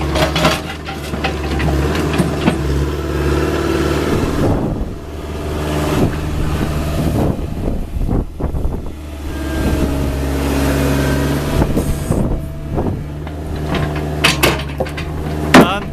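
Heavy machinery revs and clanks while it scoops up the last chunk of broken concrete during a lane resurfacing from concrete to tarmac, with engine surges, hydraulic whines and scraping knocks, loud and close.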